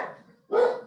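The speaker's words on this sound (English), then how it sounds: "Sorry for the dogs." Dogs bark in two short bursts, the second louder and closer, breaking into an online advisory board meeting.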